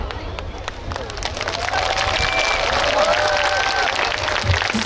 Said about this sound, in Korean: 박수와 더불어서 함성까지 보내주셔서 감사드립니다